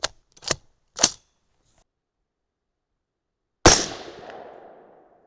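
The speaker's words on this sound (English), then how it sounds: "All right, let's fire these last two." Single loud 6.5 Creedmoor rifle shot firing 130gr Sierra GameChanger ammunition, a sharp crack with a decaying outdoor echo, preceded by a few brief mechanical clicks of rifle handling.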